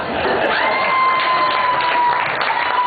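A crowd applauds and cheers at a live comedy set, dense and steady clapping with a faint sustained tone running underneath.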